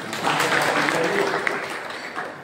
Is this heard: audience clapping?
yes